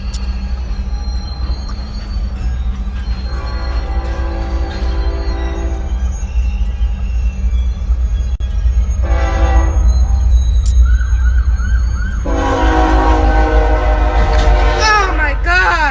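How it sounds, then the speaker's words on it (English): A train rolls past a railroad crossing with a steady low rumble, a blast of the horn and high squealing wheels toward the end, loud and close. "it's so obviously a train, bro"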